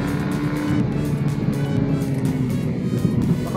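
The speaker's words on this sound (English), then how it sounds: "Big trucks, big trucks, big trucks everywhere." Big trucks and other traffic on Osmeña highway heard from a small-displacement motorcycle, a steady loud rumble and roar of engines and road noise running continuously throughout.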